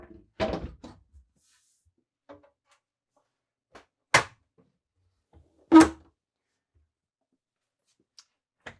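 A storage compartment door in a Newmar Summit Aire RV is lifted open, giving a couple of sharp knocks and thuds spaced a few seconds apart, near and fairly loud in an otherwise quiet interior.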